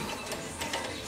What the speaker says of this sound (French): Et là on vient enlever l'écrou.